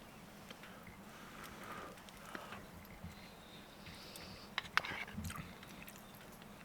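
Someone eating stew and bread at a snowy pine forest campsite chews close to the microphone, soft bites and crunches coming over a steady outdoor background.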